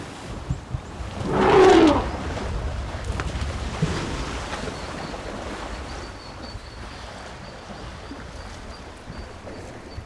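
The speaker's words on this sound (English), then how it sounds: "The matriarch and her family indulge in a deep bath." An elephant family bathes in a savannah waterhole in Africa, with one loud, short burst of splashing early on, then soft sloshing water under steady wind noise.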